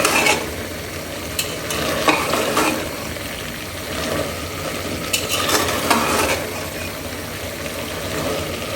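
Chickpeas frying with spices in oil as a spoon stirs them, a dense continuous sizzle overlaid by repeated scraping strokes and occasional sharper knocks against the pan, close up with no speech.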